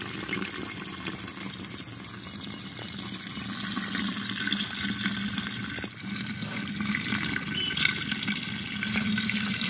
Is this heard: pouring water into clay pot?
yes